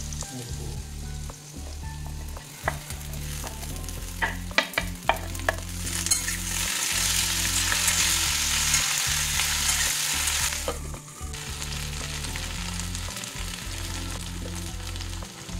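Okra sizzling steadily in a hot pan for a masala bhindi dish, with clattering spatula strokes stirring it; the frying hiss swells loudly midway and then settles, with no talking.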